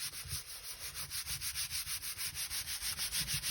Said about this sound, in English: giving it a bit of a burnish so that we, you know, we want to give the glue some time to grab, give it a chance to grab and adhere to the fabric